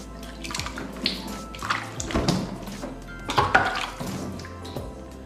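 Warm water pours and splashes while a cat is bathed, with irregular gushes and drips close by, and a few louder splashes near the end.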